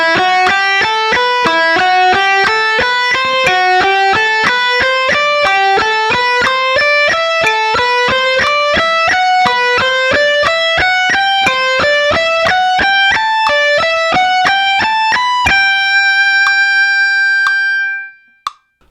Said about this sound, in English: let's do this with a metronome so we get a solid sense of time. I'm going to start at 60 BPM.